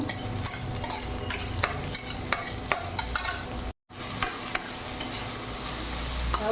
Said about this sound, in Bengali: রসুন কুচি, আদা কুচি, লঙ্কা কুচি। এবার এটাকে ভেজে নেবো অল্প।